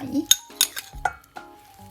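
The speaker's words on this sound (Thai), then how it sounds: "ใส่น้ำเย็นแล้วก็คลุกแป๊บหนึ่งก่อนที่จะมาใส่แป้ง" Marinated pork being tossed with cold water by hand or spoon in a bowl, with a few sharp clinks of utensil against dish and soft wet stirring over about two seconds, close and moderately loud, no talking.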